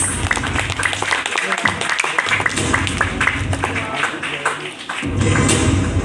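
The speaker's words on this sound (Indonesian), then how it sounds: "Tepuk tangan yang meriah untuk Gemas." Loud applause for the Gemas launch at a community forum event, a dense crowd of claps rattling steadily for several seconds with a brief dip before swelling again, voices mixed underneath.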